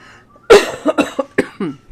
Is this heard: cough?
yes